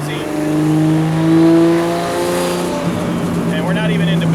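A turbocharged 1978 Datsun 280Z engine drones and revs while driving, below boost, pitch rising and falling steadily, heard from inside the car with road noise around it.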